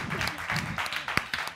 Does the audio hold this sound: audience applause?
yes